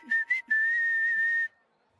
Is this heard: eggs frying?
no